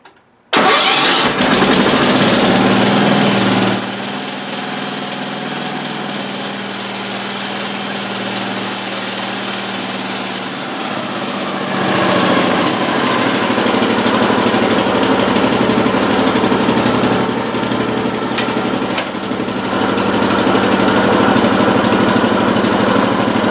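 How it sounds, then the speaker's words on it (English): A repaired engine cold-starts after transmission work: a short cranking burst, then a loud, rough roar that settles into a steady, throbbing run with a low drone dropping away midway and the roar swelling again later, close and continuous. "Let's give it another cold start here"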